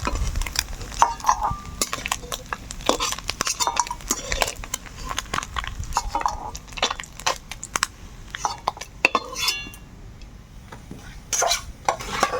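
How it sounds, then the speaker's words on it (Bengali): Fried puti fish are lifted out of a frying pan with a utensil, giving close, irregular scrapes and metallic clinks over a faint sizzle. "মাছগুলো ভাজা হয়ে গেছে এবার তুলে নেবো"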